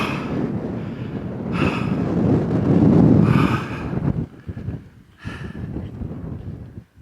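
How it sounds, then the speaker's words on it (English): Wind gusts across a bivvy camp in Wharfedale, buffeting the microphone in loud, close, rumbling surges with short quieter lulls between them. "I hope that wind's not too bad."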